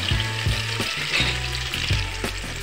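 Chopped onion frying and sizzling in an oil-filled pan, with a steady crackling hiss and a few soft stirring scrapes throughout; close and fairly loud, no talking.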